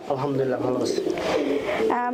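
Pigeons at a pigeon farm coo in low, rolling murmurs close by, mixed with someone talking over them.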